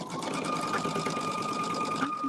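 A sewing machine stitches quilt blocks in a steady, continuous mechanical hum with a fast stitching rhythm, close and clear, running for the whole stretch with no voices.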